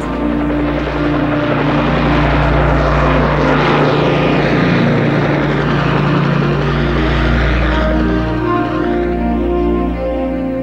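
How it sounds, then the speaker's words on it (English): Loud, continuous rotor and engine roar of a Boeing Chinook twin-rotor helicopter, with a deep rhythmic thrum and whining turbine tone throughout. "Boeing went on to develop the Chinook battlefield helicopter"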